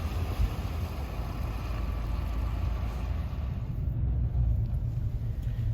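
A big truck's engine rumbles low and steady as it pushes through rushing floodwater, with a broad wash of water and wind noise around it. It carries on evenly and at moderate distance with no talk.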